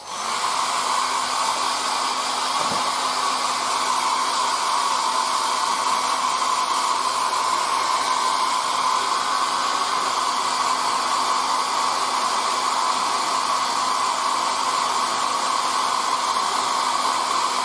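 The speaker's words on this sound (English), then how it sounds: "So you can go with the air dryer, of course" A hair dryer blows continuously at full power, a loud, steady airy whoosh with a faint hum that never changes.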